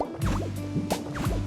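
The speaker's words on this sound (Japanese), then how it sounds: "一番低い水位で水を張ります。" Water fills a pool in a Pokémon video game with a bubbly, gurgling pour and bright dripping plops, steady and close, with no voices.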